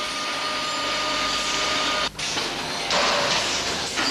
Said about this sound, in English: This rolling road test is familiar in the motor industry.